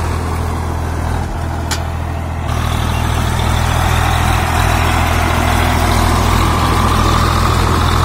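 A 1991 Swaraj 735 FE tractor engine runs steadily nearby with a deep, continuous low rumble, a brief dip near the start before the chugging resumes at full strength, with no talk over it.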